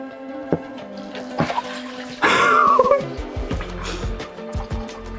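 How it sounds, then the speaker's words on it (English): Water gushes through a siphon hose while filling a river-style aquarium: a sudden rushing surge lasts under a second, then settles into quieter trickling with scattered knocks and handling noises. "I've got to start this siphon somehow and I don't know how else to do it"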